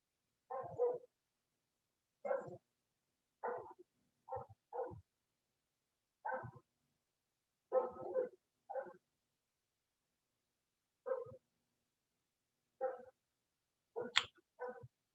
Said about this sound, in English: Apologize for the dogs in the background.